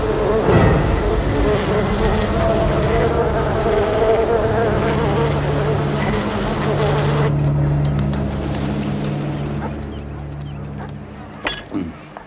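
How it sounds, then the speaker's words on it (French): Swarming killer honeybees (Apis mellifera) in an action film, a dense continuous buzz with steady low drones throughout, loud and close, thinning slightly toward the end. "La variété d'abeilles domestiques la plus courante dans ce pays porte le nom d'Apis mellifera."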